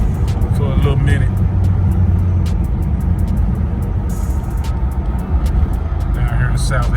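A 1978 Chevy fitted with QA1 coilovers cruises along a Mississippi highway, a steady, loud rumble of engine and road noise that holds throughout, with a voice talking over it.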